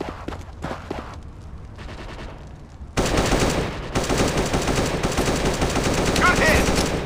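Rapid bursts of automatic gunfire crackle from the mobile shooter game The Origin Mission, starting quietly and turning into dense, loud, sustained firing halfway through, with game effects layered over it.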